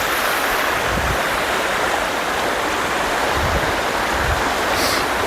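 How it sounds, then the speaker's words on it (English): A stream rolls steadily through a wooded park in the Ouachita Mountains, a loud, continuous rushing and gurgling of water heard up close with no voices. "just a beautiful stream that rolls through here."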